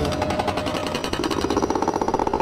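A mining machine drilling in the Take on Mars video game gives a steady, rhythmic mechanical hammering like a jackhammer, with fast regular pulses that grow more pronounced toward the end.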